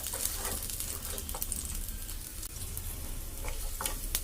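Chopped garlic, ginger and green chillies frying in oil for pepper chicken, giving a steady hiss and crackle with light stirring taps, close and moderately quiet.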